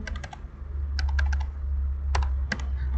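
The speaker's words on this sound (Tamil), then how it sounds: "ஃபார் எக்ஸாம்பிள் நான் ஒரு நம்பரை வந்து டைப் பண்ணிக்கிறேன்." Rapid keystrokes on a computer keyboard while entering a phone number, in short bursts of clicks separated by pauses, close and clear over a steady low hum.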